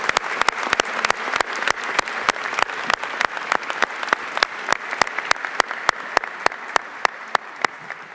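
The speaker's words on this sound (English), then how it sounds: "Let's give each other a round of applause." A crowd at a university chancellor welcoming ceremony applauds, dense clapping throughout with one sharp, close pair of hands striking a loud, very regular beat over it.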